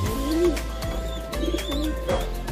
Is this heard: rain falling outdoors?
no